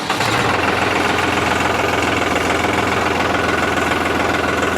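A New Holland four-wheel-drive tractor engine runs steadily, heard from the cockpit as a loud, continuous diesel drone with a rapid knocking rhythm, constant in level and unbroken throughout.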